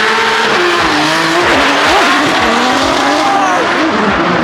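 A drift car slides around a Formula Drift track with sustained tire squeal and skidding, its engine revving and wavering loudly throughout, close and continuous.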